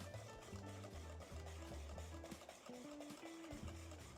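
A Thermomix blends gelatin into an ice cream base, its motor whirring in stepped, shifting pitches beneath a soft swirling churn, steady and close throughout.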